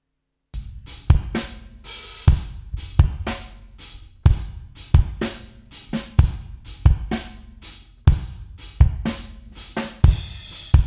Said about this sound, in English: So I'm going to play the kick now.